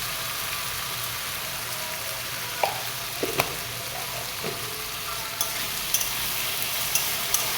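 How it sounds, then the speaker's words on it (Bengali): Potatoes sizzle in a pan after a pinch of salt is added, a steady broadband frying hiss with a few sharp clicks and scrapes of stirring scattered through, close and continuous with no talk. "তো একটু আলু ভাজার সময় নুনটা দিয়ে দিলাম, যাতে আলুটাও ভাজা হয়ে যাবে"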